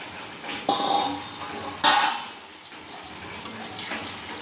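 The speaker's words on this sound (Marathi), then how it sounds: "आपण झाकण उघडून घेऊ." Metal pot lid is lifted off a pan of dry chicken cooking on the stove, two sharp clanks followed by faint simmering and small utensil taps, no voices.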